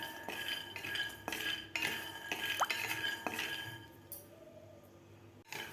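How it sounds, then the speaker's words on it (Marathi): Two spoonfuls of peanuts dry-roasting in a kadai over a medium gas flame, with intermittent metallic clinks and scrapes of a spoon against the pan, fairly close and moderately loud, with no talking. "कढईमध्ये आपल्याला शेंगदाणे भाजून घ्यायचे आहेत।"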